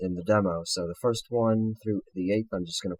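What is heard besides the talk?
No everyday noise stands out behind the speech.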